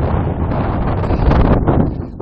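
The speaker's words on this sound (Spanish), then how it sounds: "Corre viento" Strong summit wind at Yasur volcano on Tanna Island, Vanuatu, roars loud and steady across the microphone for a couple of seconds, a dense buffeting rumble with gusty swells and no voice over it.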